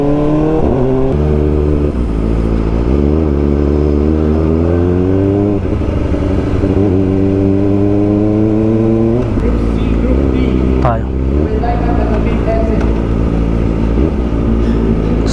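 A Kawasaki ZX4RR motorcycle at a trackday screams through a string of high-revving gear pulls, each pitch climb ending in a shift and drop, loud and close for the whole run.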